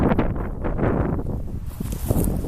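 Gusty wind in an outdoor yard on a windy day, a steady low rumble buffeting the microphone with rustling texture and no voices.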